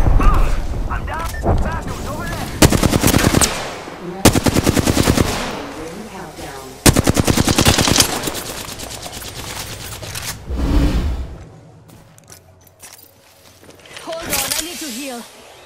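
Automatic gunfire in the battle royale video game Apex Legends, loud rapid bursts repeating across the clip with short pauses between volleys, while a player talks over the shooting.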